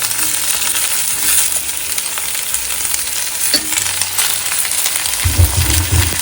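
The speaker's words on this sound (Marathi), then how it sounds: "आता त्यामध्ये आपल्याला काजू परतवून घ्यायचे तेलात" Fresh cashews frying and being stirred in hot oil in a home kitchen, a steady close crackle and hiss with occasional scrapes and clinks of the spoon, growing heavier near the end.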